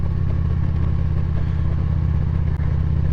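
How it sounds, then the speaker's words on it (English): A 2011 Harley-Davidson Road Glide motorcycle being ridden, its engine giving a steady, loud, continuous low rumble with constant wind and road noise throughout, with no talking. "I have a 2011 Road Glide."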